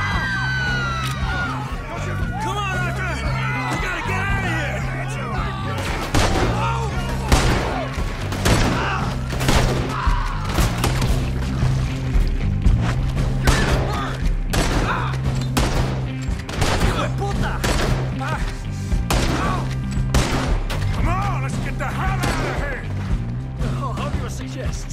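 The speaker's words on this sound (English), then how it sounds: "There he is. Shoot that man." Gunfire in the Western video game Red Dead Redemption 2, with rapid repeated gunshots over a steady bed of game music and crowd noise, loud and continuous throughout.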